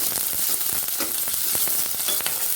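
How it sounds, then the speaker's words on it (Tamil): Onion and green chilli sautéing in oil, a dense, close, steady sizzle with quick crackles throughout and no voices. "இப்போ வெங்காயம், பச்சை மிளகாயும் சேர்த்துக்கலாம். கொஞ்சம் நல்லா எண்ணெயிலே வதங்கணும்."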